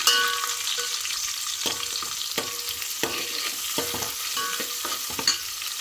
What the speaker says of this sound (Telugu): కొంచెం లైట్ గోల్డ్ కలర్ వచ్చే వరకు ఫ్రై చేసుకుందాము